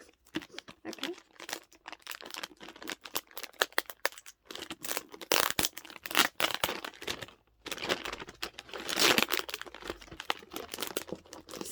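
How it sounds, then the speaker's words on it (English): Close, crackling bursts from crinkly gift paper being pulled and torn open, a present wrapped in two layers, coming in irregular rustling rushes with short pauses between them. "It's so hard to open because it's that paper that's got that weird material."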